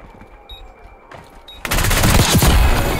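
Gunfire in a first-person shooter video game during sniping, with a couple of faint early pops, then a sudden loud barrage of rapid shots and impacts that carries to the end.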